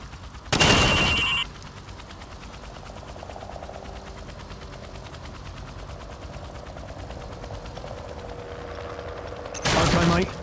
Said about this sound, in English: Now, shoot each target while aiming down the sights.